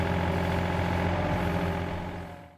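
Engine of a Yanmar VIO 30-6 compact stump grinding machine with a 27.3 horsepower engine, a steady close mid-pitched diesel hum with harmonic drone, holding level before fading out at the end.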